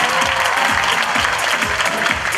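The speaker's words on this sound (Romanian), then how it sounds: "La semnalul meu toată lumea aplaudă, da?" Sustained applause from a school freshman ball audience, dense steady clapping from many hands filling the hall at full loudness with no gaps.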